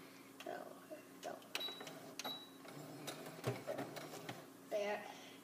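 A sewing machine stitches a scarf forward and then backstitches, giving short bursts of quiet mechanical whirring and clicking close by, broken by small handling knocks and soft rustles.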